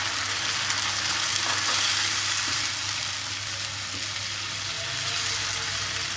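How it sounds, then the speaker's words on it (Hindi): Onions and chopped tomatoes frying in a pan for a tomato-onion curry, a steady close sizzle running throughout with occasional stirring scrapes and no talk. "और अब मैं इसके अंदर डालूंगी 4 मीडियम साइज़ के टमाटर, जिनको मैंने कट कर लिया था। और अच्छे से अब इसकी हम भुनाई करेंगे।"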